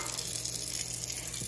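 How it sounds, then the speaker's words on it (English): A tin-lined copper pot is rinsed under a running tap of lukewarm to cool water, producing a steady close splashing gush throughout. "I rinse it in just some lukewarm to cool water"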